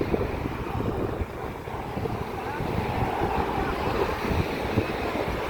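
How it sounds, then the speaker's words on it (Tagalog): Steady outdoor wind noise roars and buffets the microphone without a break, a dense broadband rush that swells and eases slightly throughout, with no voices. "It's windy now"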